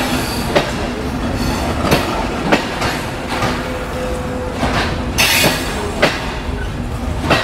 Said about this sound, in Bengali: আর রূপসা এক্সপ্রেস কিন্তু বেশ লম্বা একটা ট্রেন।